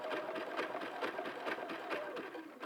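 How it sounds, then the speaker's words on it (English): A sewing machine stitches the inside of a hat at a slowed pace, its motor whirring steadily with a continuous rapid needle rhythm, close and alone with no talk. "We're just going to stitch along here a bit slower. Just continue stitching along."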